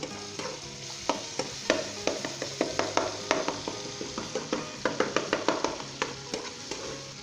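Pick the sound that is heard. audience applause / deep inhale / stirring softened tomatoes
stirring softened tomatoes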